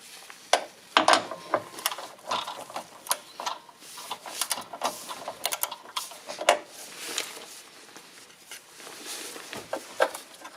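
A ratchet clicks in quick irregular bursts while undoing an intercooler bolt on a 1.6 HDi/TDCi Peugeot/Citroen diesel engine, the metallic ticks close and crisp with short pauses between.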